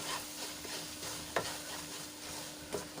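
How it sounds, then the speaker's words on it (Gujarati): Soft scraping and swishing of a spoon stirring milk reducing in a pan over very low heat, steady and close, with a couple of sharper clinks against the metal. "તો ફરીથી એને આપણે દૂધ બળે ત્યાં સુધી એને હલાવી લઈશું"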